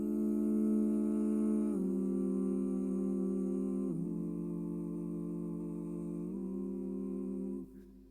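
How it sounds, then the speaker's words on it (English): A sustained sung vocal processed through a TC Helicon Voicelive 3 harmony effect, with two high harmony voices stacked above it, holding long steady notes that step to new pitches every couple of seconds before fading out. "my Voicelive 3 went to effect 195, which is two high harmonies"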